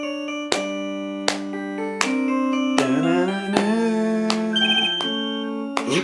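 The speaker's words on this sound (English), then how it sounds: "Is that Godot's phone?" Musical phone ringtone in the Phoenix Wright: Ace Attorney Trials and Tribulations video game, a clear electronic melody of plucked, chime-like notes repeating in a steady rhythm, alone without talk.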